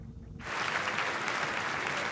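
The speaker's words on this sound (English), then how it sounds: "There was appreciative applause" Warm applause from a crowd at the Auschwitz liberation anniversary ceremony starts abruptly after a near-silent moment, then holds as a steady, full clatter of many hands.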